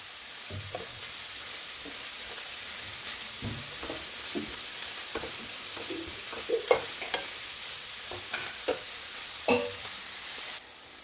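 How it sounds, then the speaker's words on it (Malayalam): Onions with salt sautéing in a pan, a faint steady sizzle broken by soft scraping and clinking as they are stirred, growing busier toward the end. "സവോള പെട്ടെന്ന് വഴന്ന് കിട്ടാനും ഇതിന് ആവശ്യത്തിനുള്ള ഉപ്പ് ചേർത്ത് കൊടുക്കും."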